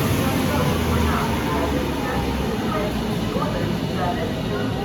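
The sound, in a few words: Northern train 331015 arriving at the station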